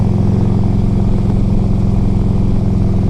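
A 2004 Harley-Davidson Electra Glide Ultra Classic rumbles loudly and steadily while being ridden, its low engine drone constant and close with no talk over it.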